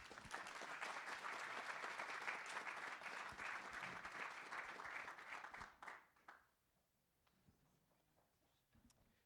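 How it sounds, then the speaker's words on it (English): An audience at a travel and mobility forum applauds panelists taking the stage, with dense, sustained clapping for about six seconds before it fades out to quiet room tone. "please give them a round of applause"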